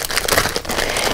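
A plastic bag holding small O-rings for a gaming chair is crinkled and handled close up, giving a loud, continuous rustling crackle without any talk.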